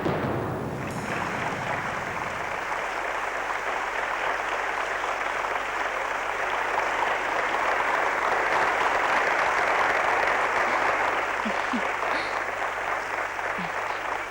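Sustained applause from a studio audience during a stage horror drama scene, loud and steady throughout with no talk over it.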